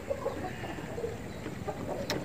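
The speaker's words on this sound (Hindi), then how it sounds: "इधर मुर्गी हैं जो आपस में लड़ रही हैं" Chickens squabble in a village yard, giving faint clucks and short squawks over steady outdoor background noise.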